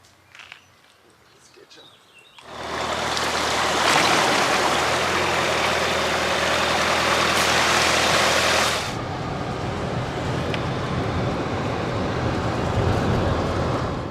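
A rental car drives through a water splash on a gravel rally stage in Sardinia, a loud, sudden rushing spray of water that lasts several seconds and then drops to a steady engine and road rumble.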